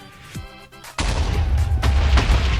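A short high tone cuts off into a sudden loud blast from a huge TNT explosion in Minecraft, followed by a sustained rumbling roar with a couple of further booms.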